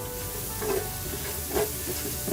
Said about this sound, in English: right here I'm going to add the tomato on low flame